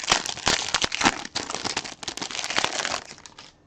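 Trading card packs for a 2017 football card break are shuffled by hand, giving a close, steady run of crisp plastic crinkles and rapid clicks with no talking.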